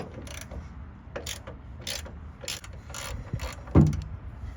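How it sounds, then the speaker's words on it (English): A bolt being unscrewed from a Tesla Cybertruck tailgate bracket: a string of light, rhythmic mechanical clicks and ratcheting ticks, close up, ending in a sharper knock. "So we're going to unscrew this."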